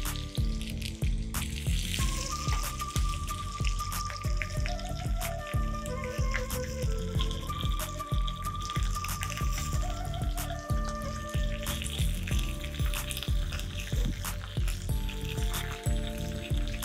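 Mustard seeds, cumin seeds, soaked dal and curry leaves sizzle and fry in hot oil for a South Indian tempering, a steady loud crackle with scattered sharp pops and spits throughout, with no voices.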